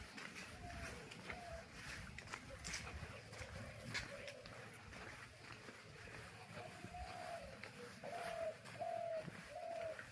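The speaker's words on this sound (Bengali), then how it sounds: "ঘুঘু ডাকে রে হ্যাঁ" A dove coos in soft repeated phrases, faint and somewhat distant, over a murmuring outdoor background with occasional low voices.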